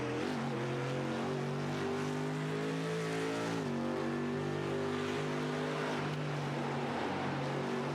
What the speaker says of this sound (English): Big Mercedes AMG motor stroking the car onto the Dottinger Höhe.